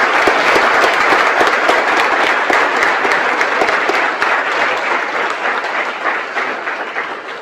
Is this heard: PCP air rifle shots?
no